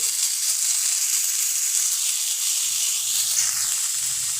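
A dried chili frying in a pan with onion, tomato and green chili, giving a loud, steady high hiss and sizzle with faint low clinks underneath.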